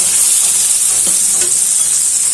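Prawns and spice paste frying in a pan, giving a loud, steady hiss and sizzle at close range with a faint scrape of stirring and no talk.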